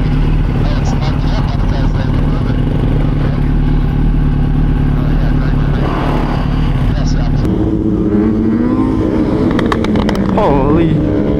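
A dirt bike engine runs with a low, steady rumble that rises into a few sharper revs near the end, while people talk loudly over it close by.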